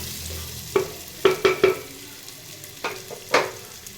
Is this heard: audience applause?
no